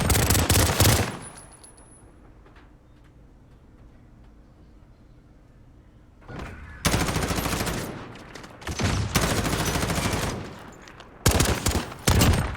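Renetti pistol firing three-round bursts in a competitive shooter match, loud close volleys of rapid shots at the start and again in several clusters later, separated by a long quieter stretch of low background rumble.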